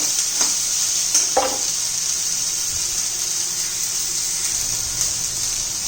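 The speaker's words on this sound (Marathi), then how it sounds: "आपण चांगल्या परतून घेऊया" Ridge gourd chutney fries in a pan with a steady, fairly loud hiss. A few scraping stirs come early on, and no one talks.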